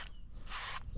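Lubricant spray from an aerosol can hisses onto the blades of a STIHL trimmer head in short bursts: a brief one, then a longer hiss, then another quick puff, close up with no talking.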